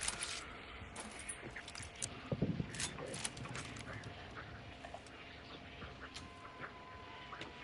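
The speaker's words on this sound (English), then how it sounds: "these ducks will make a bunch of noise and fly out if I get too close to them" Ducks in the Hunt: Showdown video game quacking and flapping off as they are approached, a scattered burst of faint quacks and wing flutters over quiet ambience.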